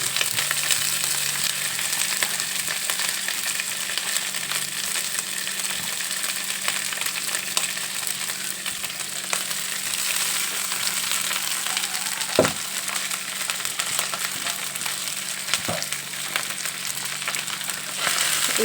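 Leftover rice frying in a pan: a continuous bright sizzle that holds steady throughout, broken by a couple of sharp knocks or scrapes.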